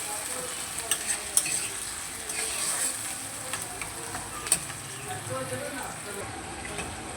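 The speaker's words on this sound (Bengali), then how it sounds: "পেঁয়াজ বাটাটা দিয়েও একটু নেড়ে নেবো তেলের মধ্যে" Onion paste frying in oil as it is stirred: a continuous sizzle with occasional scrapes and clicks of the spatula against the pan, close and steady.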